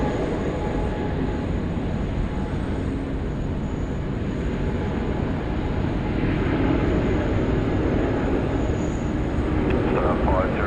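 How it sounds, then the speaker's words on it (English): Asiana airliner rolling for takeoff on runway 16 right at Sydney Airport, a steady broadband jet engine roar held throughout, distant and constant. "Here we go, Asiana now,"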